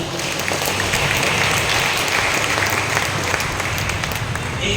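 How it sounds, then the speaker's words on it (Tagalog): A church congregation applauds steadily and loudly throughout, a dense, continuous wash of clapping close by with no pause. "Grabe po yung palakpak niyo sa Kanya."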